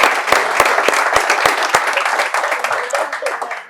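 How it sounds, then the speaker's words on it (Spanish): An audience breaks into applause for Pepa Jiménez at a business interview event, dense clapping opening with a few sharp claps and gradually thinning out as a voice speaks over the end. "Un aplauso para Pepa."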